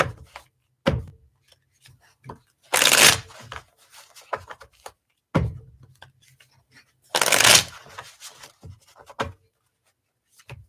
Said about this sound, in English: let me throw some cards and see